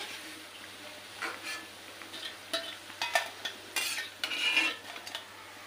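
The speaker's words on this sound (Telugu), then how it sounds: "నీట్గా ఫ్రై అయిపోయినాయి, తీసేసుకుంటున్నాను." Cabbage pakoda frying in hot oil with a soft steady sizzle, broken by close scraping and clinking of a metal utensil in the pan as the fried pieces are stirred and lifted out.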